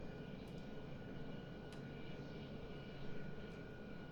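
A MiG-21bis fighter jet in the Prepar3D flight simulator climbing under engine power, giving a steady, broad roar that holds at an even level throughout, with faint whistling tones layered on top.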